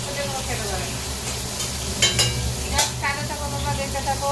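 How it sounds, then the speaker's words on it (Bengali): Pointed gourd fries in a pan with a constant close sizzle, broken by a few sharp clinks and scrapes of stirring, while a voice can be heard faintly in the background. "ভাজা হয়ে গেছে, এবার এখানে পটলটা ভাজছি।"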